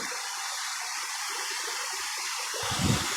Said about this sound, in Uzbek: Suvlarda ovozi, Sharsharani ovozi.